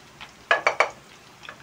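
Fried rice stirring and scraping in a wok at home, a few quick close clatters and sizzling bursts in a row, then softer scrapes.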